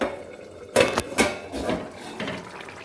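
A lid lifted off a cooking pot of leftover chicken curry, giving two quick metallic clanks close by, followed by a softer scrape and light clatter.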